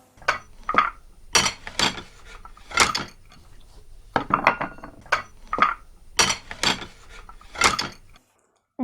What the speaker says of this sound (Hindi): I heard dishes clattering in the kitchen.